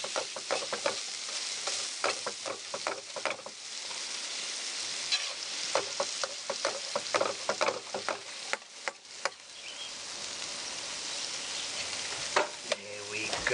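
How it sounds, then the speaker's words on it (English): Fish skins frying in a pan at an outdoor bush kitchen in Africa, with a continuous soft sizzle broken by frequent small crackles and pops, fairly quiet and close. "Those skins are going to be fried again."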